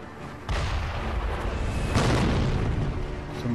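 Two heavy cannon blasts boom out in Sekiro: Shadows Die Twice, the first sharp and the second a moment later, each followed by a rumbling roar that sustains at close, loud level.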